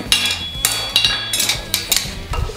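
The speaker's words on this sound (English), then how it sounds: "the area I'm hitting is in line with my hammer handle" A hammer strikes a forged steel horseshoe on an anvil with repeated sharp metallic clangs, about five blows in steady rhythm, with bright ringing overtones. It is close and loud and no one speaks.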